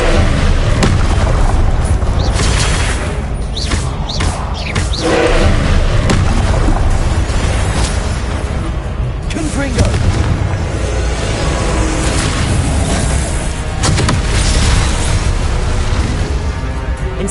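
In a Harry Potter video game, the Confringo blasting spell sets off loud, booming explosions that rumble and crash densely over one another in a sustained barrage of bursts.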